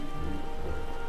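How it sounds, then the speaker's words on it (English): Steady rain falls in the video game Final Fantasy XIV, a constant even patter on surfaces with no pauses, filling the whole moment. "I am in the rain."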